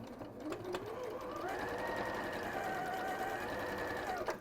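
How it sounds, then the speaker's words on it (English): A domestic sewing machine stitches a seam for a weekend bag or quilt, its motor whirring up to a steady, close running hum with a rising pitch, while someone talks faintly alongside. "and then I'm just going to sew down, and I'm looking at the right hand side of my foot."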